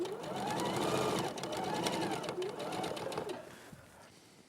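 A sewing machine runs a quarter-inch seam on a quilt block, a steady rhythmic whir that swells and eases in a few surges, with people talking over it before it trails off near the end.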